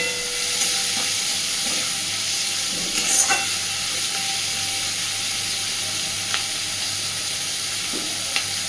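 Onion fries with shrimp in a pan over a flame, giving a continuous close sizzle and hiss. A few sharp utensil scrapes and clinks come at irregular intervals, and no voices are heard.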